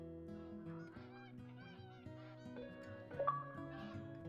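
Canada goose in theHunter: Call of the Wild video game, honking in a series of nasal calls with a louder honk near the end, over quiet game ambience.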